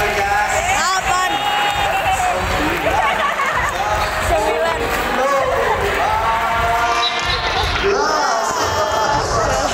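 Crowd noise at a dolphin show at Taman Safari Bogor, with loud audience cheering and whooping through most of the stretch, children shouting, and a presenter counting numbers over a loudspeaker throughout.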